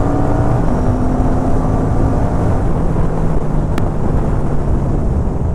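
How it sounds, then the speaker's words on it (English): Aprilia RS 457 motorcycle running with its exhaust fitted with a dB killer, a steady bass-heavy drone that holds loud and unbroken under heavy wind rush throughout. "right now my exhaust is with the DB killer, but still it has a lot of bass"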